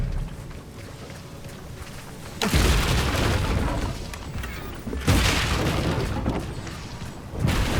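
Two heavy whooshing blasts of the Expelliarmus disarming spell in the wizarding game Hogwarts Legacy, each a sudden loud burst that rumbles on for a couple of seconds over steady background game ambience.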